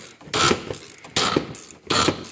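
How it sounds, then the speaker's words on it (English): An intercooler tube clamp on a Duramax diesel engine is loosened with a ratchet, three short bursts of close metallic clicking separated by brief pauses. "So I got this clamp loosened up now."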